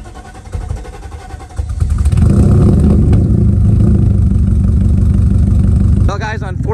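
A 1995 Mercedes W140 S500 cranks briefly, then catches and settles into a loud, rough, uneven idle after a crankshaft position sensor change. The engine cuts off near the end, and a voice follows.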